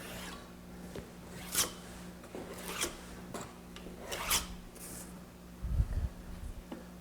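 A blade draws along a template to cut a square edge on thin wood veneer for a chessboard, making several short, raspy scraping strokes up close, followed by a soft low thump.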